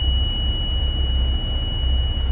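A steady, high-pitched electronic buzzer tone drones without a break over low engine rumble.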